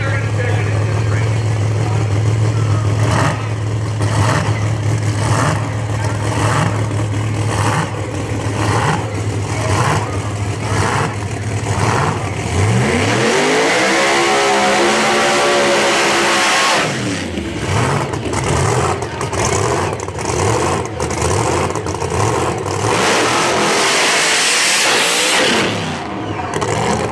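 Drag racing cars at Flying H Dragstrip, including a car burning out and launching during round 1 qualifying, with loud engine revving and a rising acceleration sweep that fades and returns, close and continuous under a commentator's talk.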